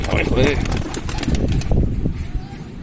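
A pigeon close by, with soft cooing and fluttering mixed into steady background noise and a voice talking over it.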